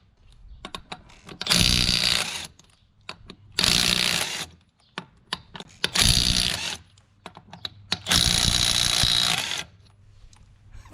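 Milwaukee 2564-20 3/8-inch right angle impact wrench with a 1-inch socket removing lug nuts, four loud bursts of rapid hammering separated by pauses and small clicks.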